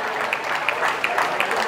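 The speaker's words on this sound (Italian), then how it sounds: "applausi per l'Acragas" Football crowd at an Akragas match applauds after a near miss, a brief spell of scattered clapping heard under the commentator's voice.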